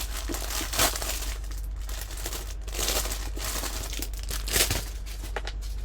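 A plastic pack of craft trim handled up close, giving continuous crisp crinkling and rustling with a few louder crackles, no voices.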